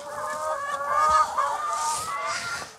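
Hens clucking inside an organic farm henhouse holding around a hundred birds, with several overlapping calls rising and falling close by in a steady chatter.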